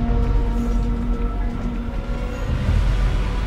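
A train in the video game Far Cry New Dawn rolls along steadily, a loud, continuous low rumble with faint tonal hums and no pauses or voices.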